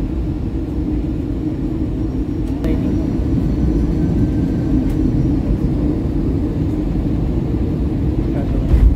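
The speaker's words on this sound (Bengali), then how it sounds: "আমরা নির্ধারিত সময় থেকে জাস্ট 15 মিনিট ডিলেতে সেফলি ল্যান্ড করে গেছি বাগডোগরা এয়ারপোর্টে" A passenger airplane lands at Bagdogra Airport, heard from inside as a steady, loud cabin rumble and broadband roar lasting throughout, with a few faint clicks and no clear voices.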